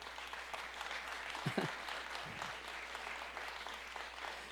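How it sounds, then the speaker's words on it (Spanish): A church congregation applauds during a sermon, a fairly faint, even spread of clapping that carries steadily throughout, with a few low voice murmurs partway through. "Denle un aplauso al Señor."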